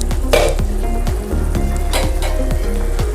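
Egg gravy sizzles loudly in a hot pan with a dense, crackling fry and occasional clinks and scrapes of stirring. The sound stays close and constant, with no talking.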